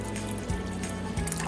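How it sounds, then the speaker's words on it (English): Water is poured over bones in a pot for bone broth, a continuous close liquid gurgle with a rising fill tone that shifts pitch twice during the short pour. "just a little bit more water, just enough to cover the bones."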